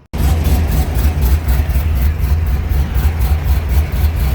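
A race car engine on a private track test runs steadily near the listener as the car drives back, a continuous deep rumble that never drops off, with no talk.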